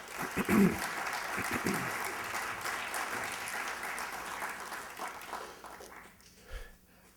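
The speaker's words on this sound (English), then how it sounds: "you deserve to give this university and the leadership and yourselves a round of applause." Audience at an Albany State University commencement applauds after a congressman's speech, a broad sustained clapping with a few louder bursts and cheers early on, thinning and fading toward the end.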